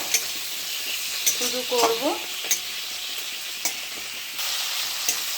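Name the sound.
onion and tomato frying with cumin tempering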